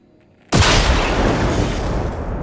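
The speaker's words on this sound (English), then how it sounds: "And now we shoot it." After a brief hush, a weapon fires at a beacon in Generation Zero, setting off a sudden heavy boom that rolls on as a loud, sustained roar.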